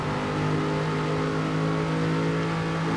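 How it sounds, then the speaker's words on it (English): An Aston Martin GT4 race car engine revs hard and accelerates in a sim racing game, a steady loud droning engine tone holding throughout the short stretch. "Trying to get the power down to go up Rouge Rouge, getting that slipstream of Rippin"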